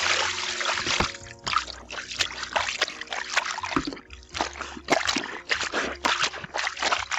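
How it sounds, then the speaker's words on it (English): Water is poured over bed sheets and pillowcases soaking in a basin during hand washing, making irregular close splashes, trickles and sloshing bursts with short pauses between them. "Then I add the pillowcases, and we just add more water."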